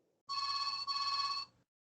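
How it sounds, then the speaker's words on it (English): A telephone rings with one loud double-burst electronic ring during a GDPR training session, heard alone without talk. "Somebody's phone's off the hook."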